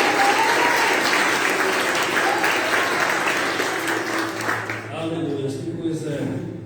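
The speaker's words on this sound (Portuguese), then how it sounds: "Você pode aplaudir o Senhor nessa noite?" A church congregation at a preaching service breaks into loud, dense applause that holds steady for several seconds, then fades as a voice takes over and keeps talking.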